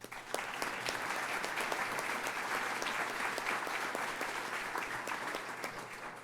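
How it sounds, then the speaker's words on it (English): Steady, dense applause from a seated audience at a mayoral candidates' forum in Columbus, sustained and even for several seconds with no voices over it. "Give them a round of applause."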